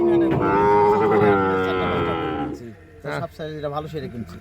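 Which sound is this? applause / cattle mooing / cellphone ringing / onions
cattle mooing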